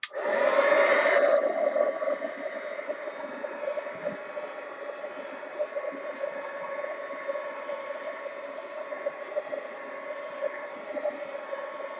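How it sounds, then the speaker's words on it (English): A heat gun blows hot air across a mixed-media art journal page, a steady close whooshing hiss that starts with a brief louder burst and then runs evenly for several seconds, with no voice over it. "Heat gun."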